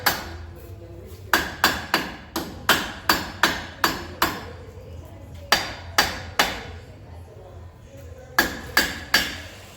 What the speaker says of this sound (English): just tapping it in with a lead hammer